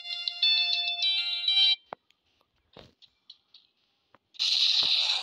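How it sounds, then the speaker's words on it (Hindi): A phone ringtone rings loudly and close in two bursts, with faint clicks and soft noises in the pause between them. "किसका फोन आ रहा था?"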